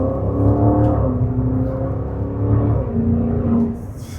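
A Maserati Levante GTS engine hums in a steady, continuous drone, close and fairly loud, with a faint rise in intensity under a bridge and no voices.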